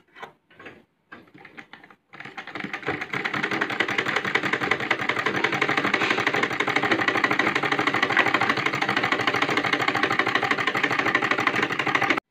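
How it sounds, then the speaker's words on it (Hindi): A home sewing machine running a third line of stitching on fabric, where the bobbin thread had been loosening: a few scattered clicks, then a loud, steady, rapid mechanical whir for about ten seconds without interruption. "मैं आपको तीसरा स्टिचिंग करके दिखाती हूँ।"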